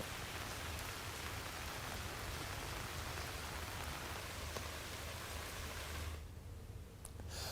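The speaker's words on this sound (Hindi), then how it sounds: "झारखंड में बारिश हो रही है" Steady rain falling in Jharkhand during a low-pressure system from the Bay of Bengal, a dense even hiss with no voices that drops away sharply in the final second.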